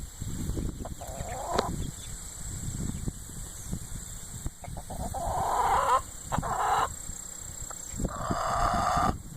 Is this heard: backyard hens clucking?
yes